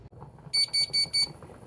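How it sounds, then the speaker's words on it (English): A kitchen timer goes off in a home kitchen during a fried bluefish recipe, sounding four quick, loud, evenly spaced electronic beeps over quiet room noise. "Timer just went off."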